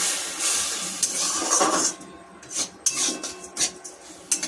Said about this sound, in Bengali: চাল দেওয়ার পর একটু লবণ আর একটু হলুদ দিয়ে ভেজে নেব